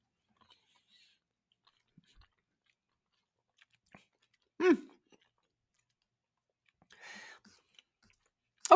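Bites of a chocolate chip cookie dough Quest protein bar being chewed close up, a few soft crunchy bursts separated by quiet pauses.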